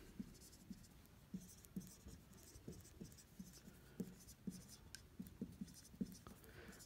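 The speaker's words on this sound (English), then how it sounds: "So let's write that down." Pen writing notes by hand during an A-level chemistry lesson, giving quiet, close scratchy strokes in an irregular rhythm of short taps and scribbles, faint and unaccompanied by talk.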